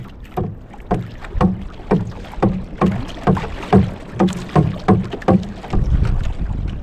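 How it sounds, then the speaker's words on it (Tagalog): Wooden oars dip and pull through choppy sea as a large wooden boat is paddled, giving a regular series of close, splashy strokes about every half second under steady wind noise on the microphone, with no talking. "Nahihirapan lang po kami magsagwan gawa po ng ano po, maalon"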